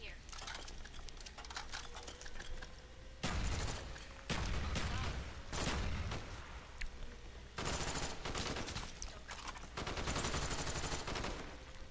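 Rapid gunfire from Black Ops Der Riese zombies mode, with repeated bursts of automatic shots loud and close, broken by brief pauses and layered with game effects.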